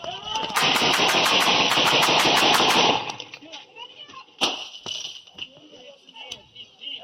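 Gunfire in a shootout with police: a loud, rapid burst of shots lasting a few seconds, then a few scattered sharp bangs against a quieter background.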